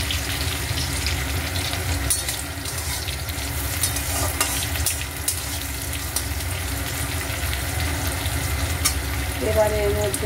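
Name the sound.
whole garam masala spices sizzling in hot oil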